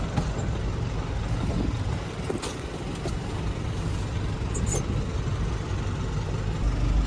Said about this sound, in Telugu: ఇక్కడైతే బండి అయితే తీసుకెళ్లి మనం పార్కింగ్ లో పెట్టద్దాం